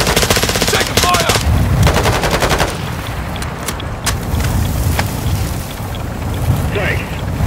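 Sustained loud automatic gunfire in Warzone 2.0 DMZ on Ashika Island, rapid bursts layered over a constant rumble of battle, with shouted voices mixed in.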